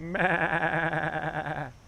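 Sheep bleating at Queens County Farm Museum, one long wavering call close to the listener, loud and clear with no talk over it.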